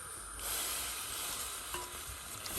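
Marinated chicken vindaloo tipped into a clay cooking pot over a gas flame, giving a steady close sizzle with light stirring and scraping, quiet and without talk.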